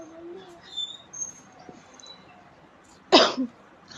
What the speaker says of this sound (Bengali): আমার ঠান্ডা লেগেছে দেখো কাশি হচ্ছে